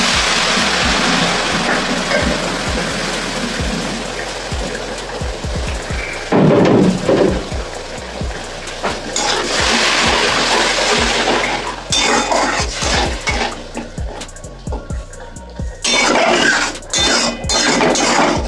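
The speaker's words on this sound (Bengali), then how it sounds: "মশলাটা কষানোর জন্য একটু জল দিয়ে দিলাম।" Water poured into frying spice paste with tomato sets off a loud, crackling sizzle that hisses steadily, broken by clatters of a spoon or pan and a few sharper spits.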